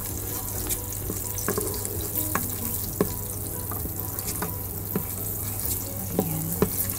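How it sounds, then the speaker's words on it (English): Butter melting in a pan gives a continuous soft sizzling hiss, with scattered light pops and clicks over it. "nagme-melt na ang ating butter"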